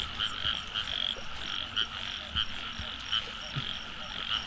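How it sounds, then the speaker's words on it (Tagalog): Frogs croak in a rural rice field at night, a steady chorus of short repeated calls with louder croaks recurring every second or so over a constant background hum. "Ay nang mga palaka doon."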